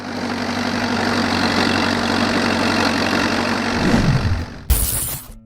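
A John Deere 3020 tractor engine running at a steady low idle, loud and close, with a brief sharp clatter near the end before it cuts off.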